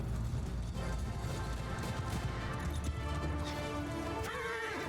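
Cavalry horses gallop across a battlefield in Mount & Blade II: Bannerlord, a heavy, continuous rumble of hooves with clattering combat noise and a brief whinny, loud and close throughout.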